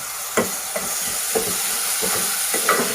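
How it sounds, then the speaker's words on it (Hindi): Chopped tomatoes go into spiced masala frying in a pan for Sindhi aloo baingan, giving a steady close sizzle broken by several soft stirring scrapes and clicks. "अब उसके बाद मैं इसमें चॉप टमाटर डालूंगी"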